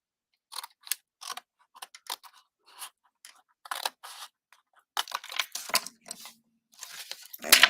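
Scissors trimming a layer of craft material, snipping in short irregular bursts of crisp close cuts separated by pauses, with a denser flurry of snips near the end.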